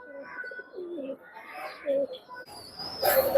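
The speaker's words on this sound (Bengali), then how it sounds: "ফ্লাইয়ের কবুতর সব ফ্লাইয়ের কবুতর" Pigeons coo softly in low, rolling calls at a pigeon market in Khalishpur, with a few chirps, while a person speaks briefly near the end.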